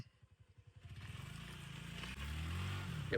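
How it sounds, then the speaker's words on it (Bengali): Suzuki Gixxer motorcycle engine revving hard as it climbs a steep slope, starting with a pulsing low idle chug that swells into a loud, sustained rising roar, close to the listener. "দেখবো ভাই আজকে জিক্সার বাইকের ক্ষমতা দেখবো ভাই"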